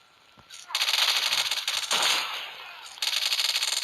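Rapid automatic gunfire in the Call of Duty video game, dense bursts of rattling shots that start after a quiet moment, pause briefly, then resume loud and close.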